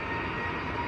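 Jet 2 Airbus A321neo jet airliner at Manchester Airport, bound for Paphos in Cyprus: a steady, loud, broadband engine roar with a low rumble, continuous and unbroken.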